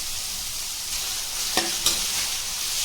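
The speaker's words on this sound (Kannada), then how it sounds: "ಇವೆಲ್ಲವೂ ಚೆನ್ನಾಗಿ ಫ್ರೈ ಮಾಡ್ಕೊಳ್ಳಿ" Onions and mixed vegetables fry on a high flame for vegetable fried rice, giving a steady close sizzling hiss with two sharp utensil clinks near the end.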